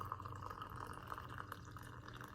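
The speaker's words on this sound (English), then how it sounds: "you just pour it, and you make sure that it goes over the leaves" Water poured from an electric tea kettle over loose tea leaves, a steady continuous splashing trickle running unbroken and close at moderate level throughout.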